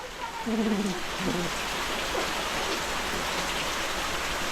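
Monsoon rain falls steadily in a constant hiss in a Konkan village, with a brief faint tonal call or voice early on.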